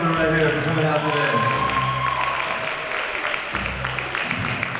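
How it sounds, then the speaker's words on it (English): A round of applause from an audience honoring a band at a live event, broad steady clapping sustained throughout, mixed with crowd murmur and some voices. "One more round of applause for these gentlemen right here for coming out today."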